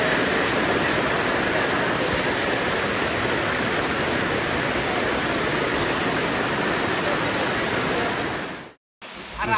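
A river flows close by at a rustic riverside camp on a trip in Asia, a loud, dense, continuous rushing roar that breaks off abruptly near the end.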